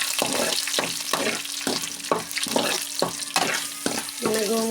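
Hot oil crackles around curry leaves tossed in for gongura chutney, a close, dense sizzle broken by steady rhythmic stirring strokes about every half second.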